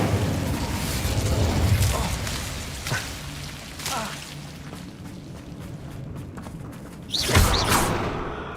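A fire spell cast with a burst in Hogwarts Legacy: a loud whooshing blast rolls out over a rumbling game backdrop, followed by scattered thumps, with a second sharp burst near the end.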